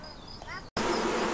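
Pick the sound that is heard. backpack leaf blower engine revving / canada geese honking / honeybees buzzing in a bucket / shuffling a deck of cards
honeybees buzzing in a bucket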